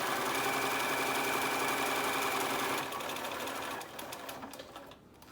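A sewing machine runs at a steady loud hum while back-stitching the corners of a pleated fabric face mask, then slows and trails off into a few faint mechanical clicks.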